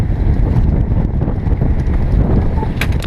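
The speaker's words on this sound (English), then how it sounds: "It's pretty windy today" Strong wind buffets the microphone outdoors in a constant, loud rumbling roar while a tent and banners are set up, with no clear gaps or pauses.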